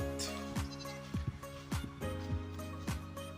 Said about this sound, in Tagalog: Nag-ukawa na yung mga kambing.